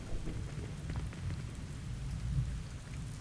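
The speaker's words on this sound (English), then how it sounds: "Why does it always rain on me?" Heavy rain in Hogwarts Legacy at an outdoor herbology class spot, a dense continuous downpour with a low rumbling undertone like distant thunder, steady and fairly loud with no talking.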